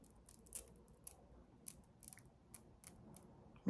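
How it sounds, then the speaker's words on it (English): Scissors snip through wig lace in a series of crisp, quiet cuts, about a dozen short clicks spaced unevenly, close by with no talking. "Makes it easier to cut the lace when you do it this way."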